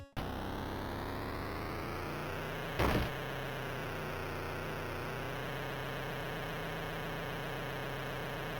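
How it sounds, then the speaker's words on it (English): Constant droning kart engine from a licensed Game Boy Advance kart racing game, a buzzy, steady synthesized hum with a brief noisy burst near the start of the third second, no voices. "the engine noise, oh god, the engine noise!"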